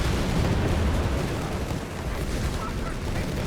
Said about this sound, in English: Mortar firing down here.